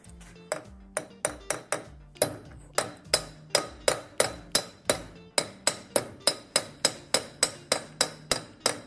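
A small hammer taps repeatedly on a front axle part of an Audi A4 B6 Quattro, striking about twenty-five sharp, ringing metallic blows at a quick, steady rhythm, close and fairly loud, with no talking.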